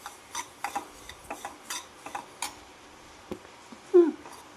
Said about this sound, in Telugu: ఇప్పుడు మనం పొయ్యి మీద పెట్టి ఇవి వేయించుకుందాం.